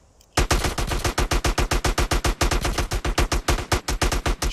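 Rapid gunfire in Grand Theft Auto: San Andreas, a loud, close stream of evenly spaced shots that starts abruptly after a brief quiet moment and runs continuously with short gaps between bursts.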